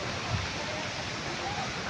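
Water from the Gundicha Ghagi waterfall pours down in a dense, steady roar, close and unbroken for the whole stretch.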